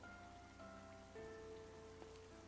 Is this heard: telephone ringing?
no